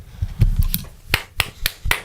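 Hand claps land on the beat during a live radio show, sharp, close, separate claps at a steady tempo, with a brief low murmur at the start.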